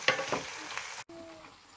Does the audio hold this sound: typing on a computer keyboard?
no